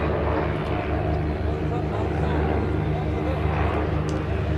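Xtremeair aerobatic planes pass in mirror formation at an air display, a continuous broad engine roar that stays loud and steady throughout.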